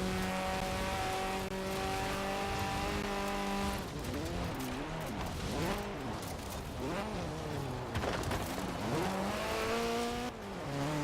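Rally car engine in a video game revving hard up a hill in third gear, harmonic whine climbing and dipping through shifts and wavering revs, continuous and loud, with some tire scrubbing and no talking.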